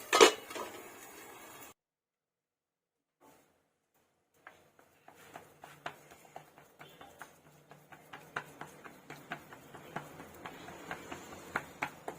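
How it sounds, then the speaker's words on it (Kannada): A plate set over a roti on a hot pan as a lid gives one sharp clatter, then a short rush of noise and a pause. Faint, irregular ticks and crackles of cooking follow. No one speaks. "ಈಗ 1 ಪ್ಲೇಟ್ ಮುಚ್ಚಿಬಿಡೋಣ, ಬೇಗ ಬೇಯುತ್ತೆ"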